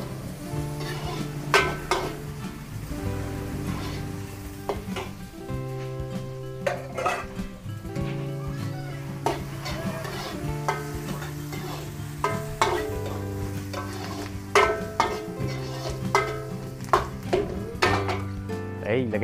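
Onions cooking in a pan for a Filipino dish, with steady sizzling under repeated stirring, scraping and clinks of a utensil against the pan, close and fairly loud throughout.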